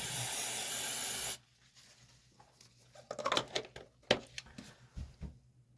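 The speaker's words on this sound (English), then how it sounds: "spray it" A loud, steady aerosol spray of Lysol disinfectant hisses for just over a second and cuts off, followed by quieter clicks and rustling handling sounds.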